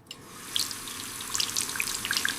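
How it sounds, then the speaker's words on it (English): A tap runs for hand washing, a steady splashing stream with bright droplet spatters that start after a brief click and carry on evenly and close by. "Let's wash our hands, Mia and Leo."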